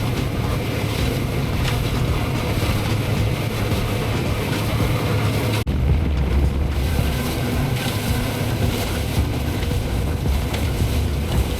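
A boat motors through a lagoon between buoys, its engine droning steadily under heavy wind buffeting the microphone, with a brief knock partway through.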